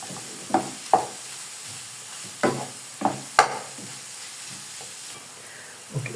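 Minced beef kofta frying with onion in a pan, a low continuous sizzle broken by several sharp scraping bursts as the spatula stirs, close up and without talk.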